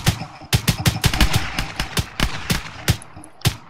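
Rapid bursts of video game gunfire, sharp loud shots in quick uneven volleys, some spaced singly, close and dry with no talk over them.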